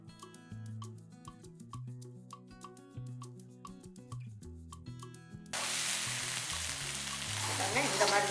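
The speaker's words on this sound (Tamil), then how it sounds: "வெங்காயம் நல்லா அந்த மாதிரி பொரிஞ்சிருச்சு இப்போ வந்து என்ன பண்ணலாம் இந்த கீரையை எடுத்து இதில் சேர்த்துக்கலாம்" Onion and drumstick leaves fry in a pan for a spinach thogayal, with music playing for the first few seconds before a loud, steady sizzle takes over and continues to the end.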